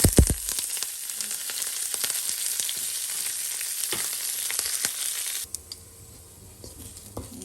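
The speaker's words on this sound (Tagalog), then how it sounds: "At i-fry natin to lahat guys." Onions frying in oil for a Sri Lankan chicken curry, a busy close sizzle with scattered crackles and scraping stirs, quieting somewhat toward the end.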